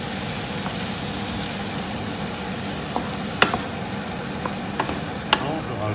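Kombu broth stirred with a wooden spoon in a pot, a continuous soft bubbling simmer with faint scraping and a few sharp clicks of the spoon against the pot, close up and without talk.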